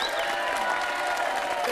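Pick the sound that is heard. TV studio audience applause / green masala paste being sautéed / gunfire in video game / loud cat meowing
TV studio audience applause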